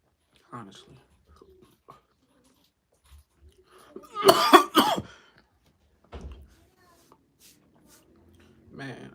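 A burst of harsh smoker's coughing near the mic in a mostly quiet room, with a few faint thumps and a brief voice.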